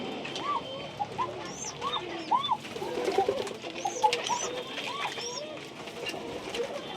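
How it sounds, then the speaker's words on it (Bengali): Tiger Bashias pigeons in a loft give repeated rolling coos with some brief higher calls mixed in, lively and fairly close, over a continuous low background murmur. "এই যে টাইগার বাসিয়াস কবুতর ডাকছে, দেখছেন ডাক দেখেন"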